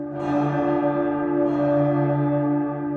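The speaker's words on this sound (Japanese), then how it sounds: "これは鐘の音か随分と大きい音ですね" A large bell rings loudly in the Twisted Wonderland video game during the Glorious Masquerade event at Noble Bell College. It sounds as one sustained, resonant tone with rich overtones that lingers the whole time, with no voices over it.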